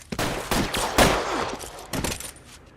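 Gunfire breaks out in L.A. Noire during a 211 robbery shootout on Broadway: several sharp, loud close shots in an uneven burst, with a heavier blast near the middle, then fading echoes.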